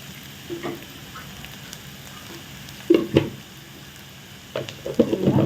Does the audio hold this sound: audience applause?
no